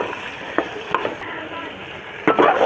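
A paste of ground green chili, ginger and cumin fries in a pan with a steady sizzle, broken by several sharp scrapes of a spatula stirring it, the loudest near the end.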